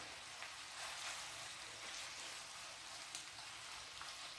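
A pound of shrimp fries in a pan with butter and garlic over medium-high heat, giving a quiet, steady crackling sizzle with scattered small pops and no talk.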